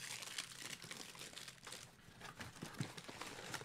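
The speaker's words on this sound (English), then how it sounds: "Oh, we got more ASMR paper." Paper from fan mail being crinkled and handled close up, a quiet run of dry rustles and crunches with small irregular bursts, no talking.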